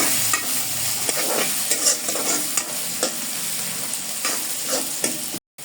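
Onions with a torn bay leaf fry in hot oil for a layer chicken curry, a close crackling sizzle punctuated by repeated spatula scrapes and stirs, then a sudden cut to silence at the end.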